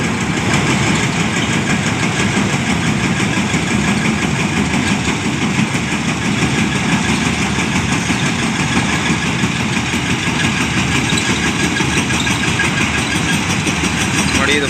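A 4x4 ragi harvesting machine runs loud and steady through the whole stretch, its engine droning low under a dense, rough threshing clatter, with a voice faintly underneath.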